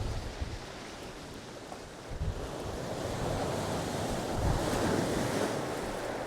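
Stormy wind and surf roar at Selsey beach during a gale, with crashing waves and gusts buffeting the microphone. The sound is a continuous, dense rumble that swells toward the end.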